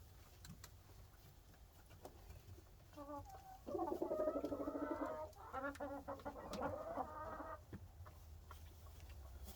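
A small broody silkie hen sitting on a clutch of eggs gives a close run of low, grumbling clucks and murmurs lasting a few seconds, with quiet surroundings before and after.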